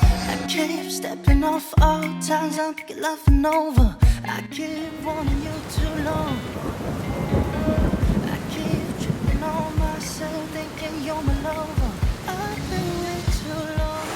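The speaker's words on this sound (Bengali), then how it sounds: "এই বৃষ্টিটা খুব দরকার ছিল" A rain and thunderstorm, with dense rain and rumbling thunder building steadily and holding loud and close throughout, after a sparser, more broken opening with strong low rumbles.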